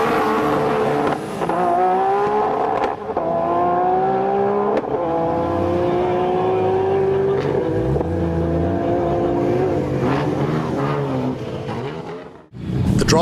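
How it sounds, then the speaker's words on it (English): A Missouri-coloured Nissan R32, quick but unstable, does a burnout with outside help, its engine revving hard and loud with a rising and falling howl and tyre noise for about twelve seconds before cutting off abruptly. No one speaks. "The driver got some outside help with the burnout"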